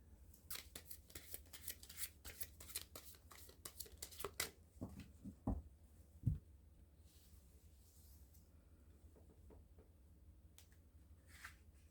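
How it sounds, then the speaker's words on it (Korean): Tarot cards shuffled and drawn by hand for a love reading: a run of quick, soft papery riffles and snaps in the first few seconds, a couple of sharper taps near the middle, then quiet low room hum. "추가 카드 한번 뽑아볼게요"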